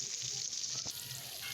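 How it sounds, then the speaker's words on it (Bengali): Spice-coated eggplant pieces frying in oil, a soft, steady hiss of sizzling with a light clatter near the middle, fairly quiet and without speech. "সেই বেগুনটা আমি মশলা দিয়ে আমি ভালো করে মাখাই এখন তেলে ভাজা নিব।"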